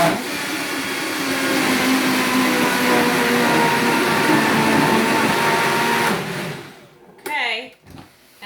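A blender purees roasted cauliflower soup with a loud, steady whir that drones for about six seconds, then cuts off; a few short, fading rattles and bumps follow in the quiet.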